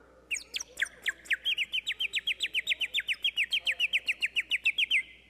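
A bird whistle toy at a kids camp is blown in a fast warbling trill, a long run of rapid bright chirps, clear and fairly close.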